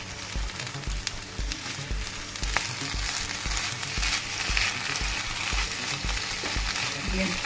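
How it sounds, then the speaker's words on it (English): Scrambled eggs with vegetables and cheese sizzle steadily in a hot pan while being stirred, with repeated scraping strokes over a continuous frying hiss. "Now we continuously mix all these ingredients together along with the vegetables until it is dry."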